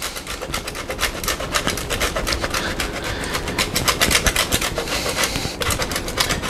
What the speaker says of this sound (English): We're going to go ahead and grate this directly on top.